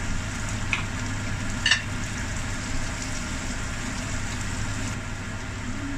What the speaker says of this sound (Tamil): இந்த தாளிப்பு கலவையிலே நாங்கள் கறிவேப்பிலை சிறிதளவு சேர்த்துக் கொள்ளலாம்